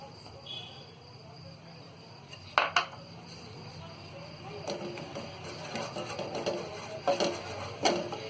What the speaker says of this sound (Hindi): तो सबसे पहले हम ये मक्के के आटे को थोड़ा सा भून लेंगे।